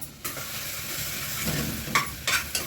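Ginger garlic paste sizzling in hot oil in a pan, a steady close crackle with a few sharp scraping strokes of a spoon near the end.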